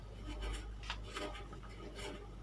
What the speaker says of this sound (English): Let me write it big just so you see it.